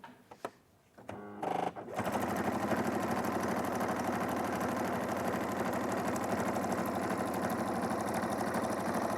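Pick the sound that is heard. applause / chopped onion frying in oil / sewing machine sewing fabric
sewing machine sewing fabric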